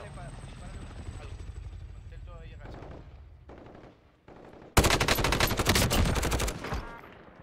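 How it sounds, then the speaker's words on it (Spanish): A supply helicopter arrives during a Call of Duty Modern Warfare match, its rotor rumble building amid bursts of gunfire and a sudden loud roar near the end, with team voice chat over the action. "Helicóptero de depósito en camino."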